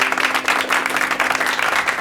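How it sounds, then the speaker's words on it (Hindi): Audience applause on a Bhojpuri TV quiz show after a contestant wins prize money, a steady dense clatter of clapping hands that fills the whole short stretch without any talk over it. "एक बार जोरदार तालियां।"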